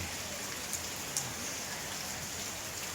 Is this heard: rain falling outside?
yes